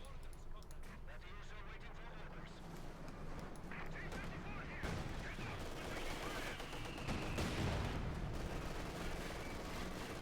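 Machine gun fire from a Company of Heroes 2 match, Wehrmacht against Soviet forces, rattling in dense bursts amid continuous battle noise and explosions, with a commentator talking over it throughout.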